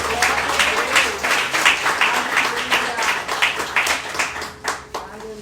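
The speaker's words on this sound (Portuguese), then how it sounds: "Uma salva de palmas ao Senhor." A church congregation applauds together in steady, fairly loud clapping that rises and falls over several seconds, with a few voices mixed in beneath the hands.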